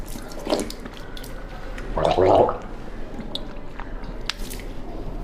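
A person gargles and swishes water in the mouth while rinsing, with short bubbly bursts near the start and a louder gurgle midway, close and clear over faint background noise.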